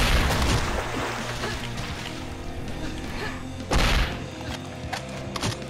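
Grenade launcher blasts in the video game Hedon, a dense run of booming thuds and bursts over a busy game soundscape, with a sharp loud impact near the end and lighter pops after it.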